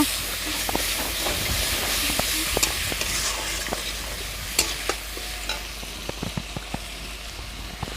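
Banana flower curry sizzles and hisses in a hot pan while a spoon stirs it, giving a steady frying hiss broken by frequent scraping clicks and taps against the pan, close and clear with no talking.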